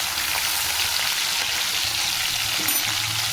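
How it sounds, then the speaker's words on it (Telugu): Dried shrimp frying in hot oil for gongura curry, with dried onions in the pan, make a loud, dense, continuous sizzle with faint stirring underneath. "ఎండ్రలు బాగా వేసుకోవాలి, వేగిపోయేదాకా ఉంచుకోవాలి"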